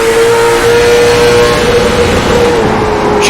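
Race car engines roar continuously in an iRacing sim race, a dense, steady pack drone with a sustained engine tone throughout and no voices.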